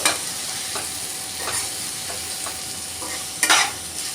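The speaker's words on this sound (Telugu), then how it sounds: "రుచికి సరిపడు సాల్ట్, అలాగే 1/2 టేబుల్ స్పూన్ పసుపు వేసుకొని వీటన్నింటికి ముక్కలకు బాగా పట్టేలాగా కలుపుకోవాలి" Okra fry with salt and turmeric being stirred in a sizzling pan, a steady fry hiss under scattered spatula scrapes and one louder clatter near the end.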